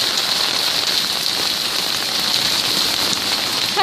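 Heavy rain pours outdoors in a loud, steady hiss of drops hitting surfaces, continuous and close, with no speech.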